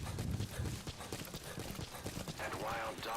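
D-Horse's hooves galloping in Metal Gear Solid V: The Phantom Pain, a quick steady clip-clop rhythm at close range, with a brief voice or animal cry rising near the end.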